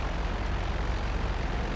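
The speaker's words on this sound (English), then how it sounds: "I think there's a jet in the air." A jet aircraft passing overhead in GTA Online, a loud continuous roar of engine noise with no break, heard alone for under two seconds.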